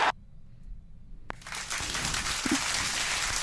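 Crowd at the UFC 265 faceoff between Derrick Lewis and Ciryl Gane erupting into loud, sustained cheering and roaring after a brief lull, building to a dense wall of noise.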